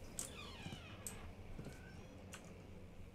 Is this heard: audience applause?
no